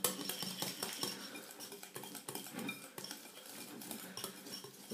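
Softened butter being beaten until creamy in a bowl, a quick run of close scraping and clinking strokes from a utensil against the bowl, fairly quiet and steady.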